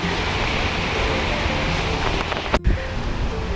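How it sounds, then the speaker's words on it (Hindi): Strong wind blows outdoors in a residential backyard area, a loud, steady broadband roar with a brief buffeting gust near the end. "एकदम मस्त हवा चल रही है आज तो भाई।"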